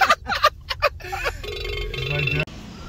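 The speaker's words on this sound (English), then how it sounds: "What kind of goofy ass ringtone?" A phone plays a quirky melodic ringtone with tonal electronic notes that stops abruptly, following a burst of voices talking at the start.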